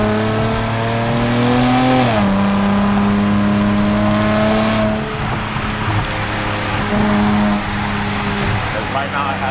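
Nissan Z NISMO with a Nismo track exhaust revving hard while driving, a loud, steady engine drone climbing in pitch through the gears with a shift break, cold tires, close in-cabin perspective.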